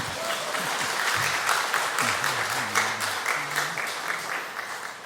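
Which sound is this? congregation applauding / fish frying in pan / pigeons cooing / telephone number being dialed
congregation applauding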